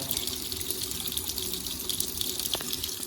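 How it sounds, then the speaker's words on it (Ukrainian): Tap water runs steadily as chromic-acid cleaning mixture residue is rinsed out of laboratory glassware, giving a continuous close splashing gush with no voices. "набираємо поліскуємо водопровідною водою, стараючись максимально вимити хром, залишки хромової суміші і виливаємо"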